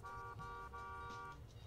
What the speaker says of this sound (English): somebody's honking at me to get in the car